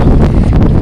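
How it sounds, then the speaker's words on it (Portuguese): Strong, cold wind at a night fishing spot gusts heavily into the microphone, a loud low rumbling buffet filling the short moment with no voices. "Muito vento."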